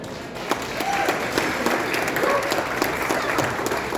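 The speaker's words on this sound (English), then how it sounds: "Another round of applause for Dylan," Loud, dense applause from a comedy club audience cheering a performer, a continuous roar of clapping that stays strong across the whole stretch without talk over it.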